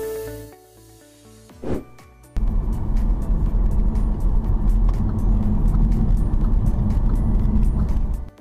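A car engine starts up and pulls away, jumping from quiet to a loud, steady low roar that holds for several seconds, close by, with no speech.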